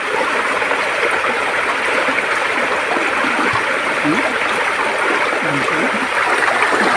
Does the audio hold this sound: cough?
no